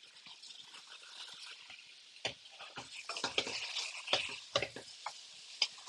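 Kale being stirred in hot oil in a pot, with soft scraping and crackling sizzle and a few sharper clinks of the spoon against the pot, fairly quiet and close.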